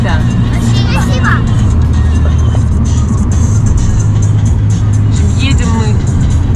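A car travels along a road through Belarus, giving a loud, constant rumble of engine and tyres from inside the cabin, with people talking over the drone.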